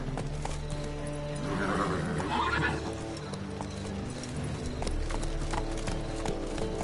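Roach, a horse in the video game The Witcher 3, gallops with steady clip-clop hoofbeats and lets out a loud whinny partway through, over continuous game music and ambience.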